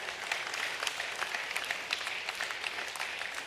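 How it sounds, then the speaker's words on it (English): A church congregation applauds with steady, dense clapping from many hands, moderately distant and filling the room, sustained without a break and with no talk over it. "you can clap if you want to"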